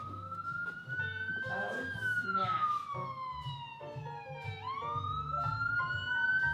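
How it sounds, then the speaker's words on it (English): An ambulance siren wails along a street, its rising and falling tone sweeping past at moderate distance over traffic rumble, with a person speaking quietly underneath. "Ambulance or cop? Ambulance."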